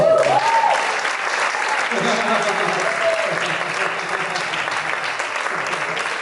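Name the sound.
applause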